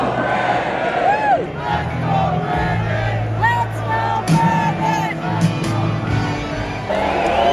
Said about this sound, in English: that's when the crowd started to get really wild